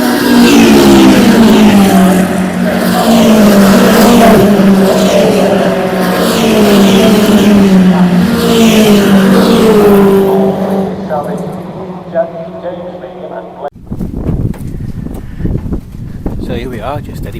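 MG Cup race cars, MG ZRs, roar past close at Cadwell Park, a sustained loud engine drone that swells and fades as the pack passes, with commentary over it before a sudden cut to quieter trackside noise.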